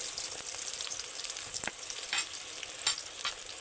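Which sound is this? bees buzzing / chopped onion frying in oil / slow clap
chopped onion frying in oil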